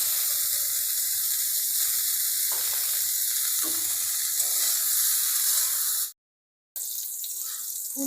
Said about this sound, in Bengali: ফুলকপি আমার লাল লাল করে ভাজা হয়ে গেছে